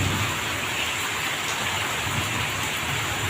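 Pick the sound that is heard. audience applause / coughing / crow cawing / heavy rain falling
heavy rain falling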